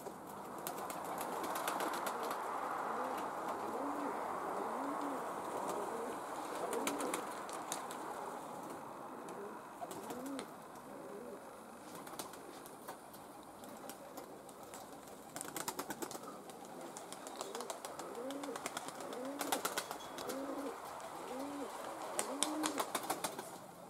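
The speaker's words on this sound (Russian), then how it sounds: "Сегодня побольше голубей в небе." A flock of tumbler pigeons circles in the evening sky over a steady outdoor background. Soft cooing and bursts of wing flapping come and go throughout.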